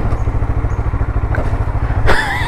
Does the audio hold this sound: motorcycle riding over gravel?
yes